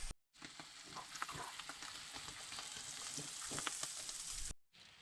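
Guanciale fries in a pan until crispy, giving a soft, steady sizzle with light crackles that carries on evenly from start to finish.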